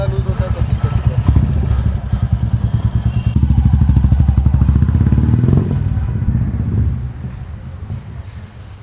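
A Royal Enfield Classic 350 single-cylinder engine idles at a service centre with a steady rapid tapping from loose rockers, running loud and continuous for most of the clip before easing near the end.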